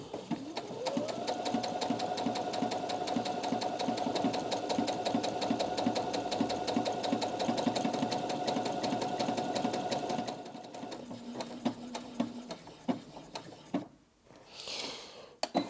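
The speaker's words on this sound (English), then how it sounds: "Always sew a buttonhole about midway, comes out a lot neater, and I'm just going to make a start." A Brother Innov-is M380D sewing and embroidery machine stitches a buttonhole with a steady, rapid mechanical whir and needle clatter, running close and loud for about ten seconds before stopping, followed by a few faint handling clicks.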